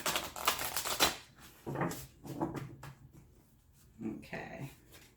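Tarot cards shuffle in several quick, uneven riffling bursts, close and fairly quiet, with brief pauses between them.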